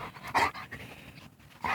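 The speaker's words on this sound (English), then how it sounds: "So her breed, she's a purebred black lab." A purebred female black Labrador, a hunting dog, pants close by in two quick breathy bursts with a quieter stretch between them.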